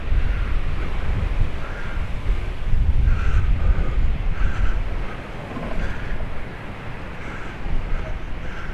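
Steady wind buffets a microphone at a beach in Paphos, a low continuous roar that swells and eases throughout with faint distant activity underneath.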